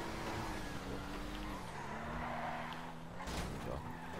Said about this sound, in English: with the emergency brake on this thing, the drifting is really good